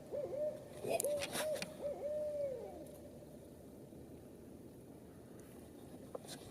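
An owl hoots in the woods at night, a run of clear calls close by at the start that then stop, leaving faint rustling and wind.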